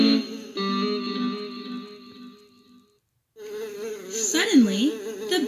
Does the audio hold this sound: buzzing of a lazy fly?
yes